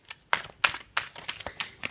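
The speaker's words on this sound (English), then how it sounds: "let's have a good shuffle of the cards" A deck of tarot cards being shuffled by hand: a series of about six short, crisp papery riffling bursts at a quick, uneven rhythm, close and fairly quiet, with no voices.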